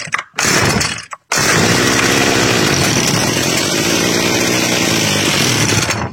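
A McCulloch B26PS brush cutter with a faulty carburetor catches after two short pulls and runs, a loud, steady two-stroke buzz that continues close by without talk.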